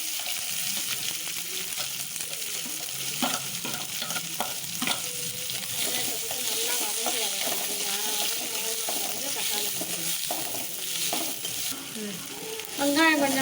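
Sliced onions sizzle steadily in hot oil with fennel seeds, cinnamon and bay leaf while a spoon scrapes and stirs the pan in repeated strokes, close and continuous, with a few clinks toward the end.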